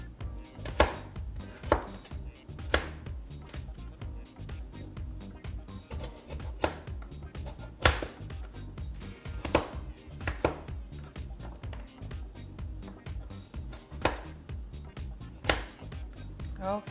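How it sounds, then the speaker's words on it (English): A knife chops sweet potato on a cutting board in irregular, sharp, close knocks, several bursts with pauses between them over a quiet kitchen background. "Okay, now we're finally done cutting up our sweet potato."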